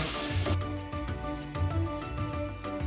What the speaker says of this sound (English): Hopefully you can kind of hear that sizzle. That's the sound you want to hear when they first go in.